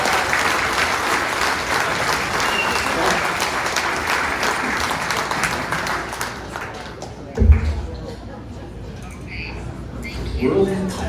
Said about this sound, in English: Big round of applause for those.